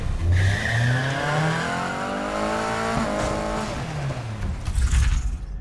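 A racing car engine in the Need for Speed Heat video game revs loud and close, with rising and falling pitch sweeps through gear changes and some tire noise near the end.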